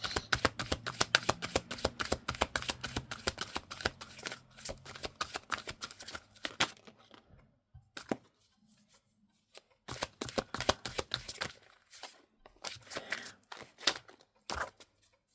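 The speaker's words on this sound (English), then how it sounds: "I now want to pull you 6 tarot cards." Tarot cards being shuffled by hand: a dense run of quick riffling flutters, then a pause and a few brief, softer bursts of card handling, close and clear with no talk.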